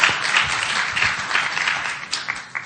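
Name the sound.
audience applause welcoming a speaker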